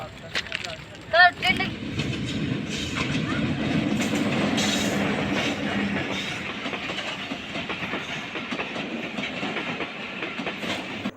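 A train rolls along the railway near Hardinge Bridge with a steady rumble and clickety-clack of wheels, loud and close, while people talk over it.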